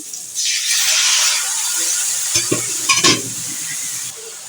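Water poured into a hot pan of frying masala sets off a sharp burst of sizzling and hissing, followed by brief stirring clatter.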